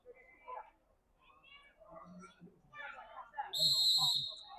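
A referee's whistle blows one sharp, shrill blast late in a futsal match, under a commentator's steady talk and faint crowd noise.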